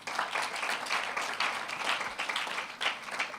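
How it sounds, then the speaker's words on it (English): Audience applause at a STEM festival launch event, a close, full crowd clapping continuously with gentle swells in intensity across the short stretch, no voices rising above it. "A round of applause for him."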